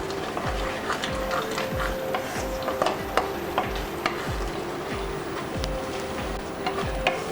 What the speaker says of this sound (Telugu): సాల్ట్ వేసి మొత్తం అంతా దీన్ని కలిపేసుకున్నాము.